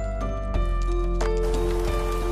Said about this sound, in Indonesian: hujan terus-menerus turun dengan lebatnya